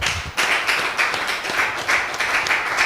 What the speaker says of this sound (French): on l'acclame encore.